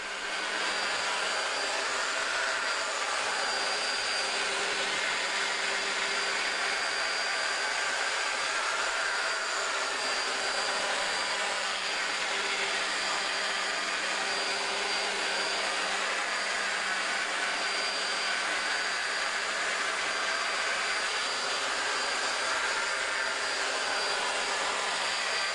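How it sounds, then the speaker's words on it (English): A rotary polishing machine running at 1200 to 1500 RPM on a headlight lens, a continuous loud high-pitched whine and hiss that holds steady throughout. "set the machine to 1200 or 1500 RPMs, and work in the polish"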